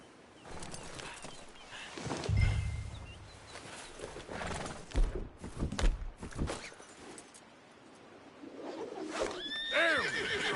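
In the video game Red Dead Redemption 2, a horse whinnies loudly and snorts, with hoof clip-clops and rustling around it and a second shrill neigh near the end.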